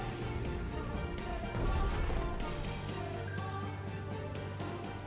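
Steady rain falls over a naval battlefield in the World War II Pacific strategy game Strategic Mind: The Pacific, a dense, continuous patter with low game ambience and a brief swell near the middle, no talk over it.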